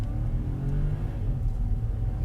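A 2025 Hyundai i20 city car accelerates, its engine a low, moderately loud hum that swells slightly and holds steady, heard from inside or close by.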